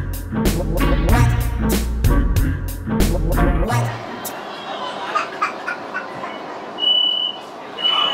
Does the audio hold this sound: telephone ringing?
no